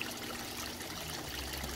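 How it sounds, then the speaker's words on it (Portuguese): Filtered return water pours back into a tilapia tank made from a water storage box, a steady close trickling and splashing flow. "Ali a água de retorno, que já passou pelos filtros e retorna aqui para a caixa."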